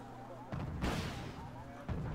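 A Chaparral vehicle fires in a real-time strategy game tournament match: two or three short booming bursts punctuate steady game ambience beneath a commentator's talk.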